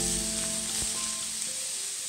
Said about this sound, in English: First, fry the minced pork.